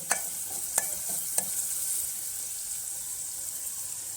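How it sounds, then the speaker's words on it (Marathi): Chopped onion with ginger-garlic paste sautés in a pan with a steady, moderate sizzle, broken early by a few sharp clinks of a spoon against the pan. "कांदा छान असा परतलून घ्यायचा आहे"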